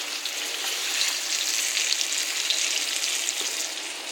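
Chili rellenos frying in oil on a stovetop give a close, even sizzle with a steady bright crackle and no pauses, and no one talks.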